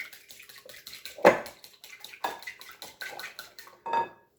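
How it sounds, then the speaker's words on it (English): Pasta water being drained from a cooking pot while making lasagna: a run of sloshing, splashing pours with a loud gush near the start and another toward the end, plus light clatter of the pot, with no talk. "Then I'm going to drain all that water off that pasta so it can start cooling."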